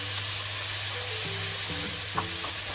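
Lardons, peas and onions fry in a pan with garlic powder and pepper, giving a steady, close sizzle that holds even and unbroken. Faint tonal background sounds sit beneath it.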